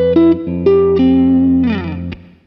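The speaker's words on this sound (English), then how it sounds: "on this model of software, I have got this plate reverb pedal" Electric guitar played as clean single notes and a short melodic run, each note ringing with a subtle plate reverb tail from a software reverb pedal, loud and close with no talking.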